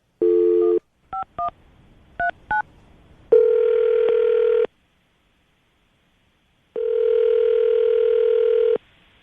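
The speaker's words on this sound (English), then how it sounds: "I'm going to dial the phone number right now" A telephone being dialed, heard as a short burst of tone, then quick keypad touch-tones in small groups, followed by two long, steady ringing tones separated by a pause, clear and close with no voices.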